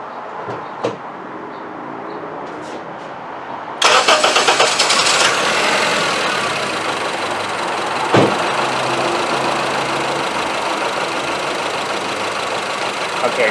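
A Honda Civic engine, under a misfire test, cranks and catches partway through, then settles into a loud, steady, slightly uneven idle close by, with a brief knock or clunk along the way.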